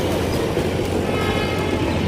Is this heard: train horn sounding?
yes